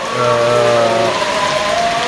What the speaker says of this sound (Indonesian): Loh hujannya ya.